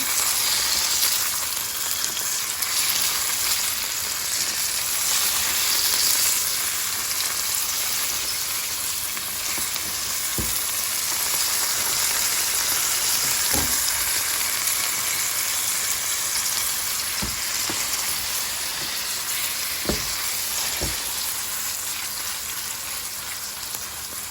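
Green peas egg masala warming in hot oil in a pan on the stove, a loud, continuous close sizzle with a few faint clicks scattered through it.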